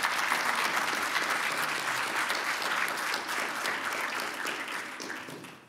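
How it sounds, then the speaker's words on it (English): Audience at a research and innovation event applauding the visual harvester Martine, a dense, continuous roar of many hands clapping that holds steady for several seconds and then starts to taper off, with no voices over it. "can we first of all give Martine a round of applause?"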